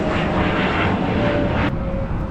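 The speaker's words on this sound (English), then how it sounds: "oh my God, another plane!" Fixed-wing airplane passing overhead near a house, a loud broad roar holding steady throughout, no voices over it.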